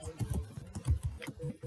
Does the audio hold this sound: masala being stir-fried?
no